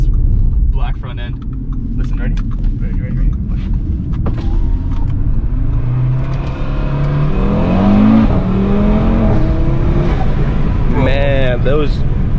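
A 2019 Audi RS3 engine revs and climbs through rapid gear shifts, loud and close, with a steady rumble underneath and rising whine at each pull. People talk over it.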